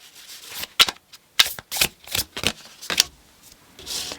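Tarot cards are shuffled close by in a string of crisp, irregular riffles and flicks with short gaps between them.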